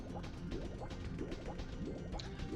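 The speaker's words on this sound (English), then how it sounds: "Yeah, this is toxic water." Toxic water in the Star Revenge 5.5 Mario 64 hack game, a faint, continuous bubbling and dripping liquid loop with rapid gurgling pulses, heard alone.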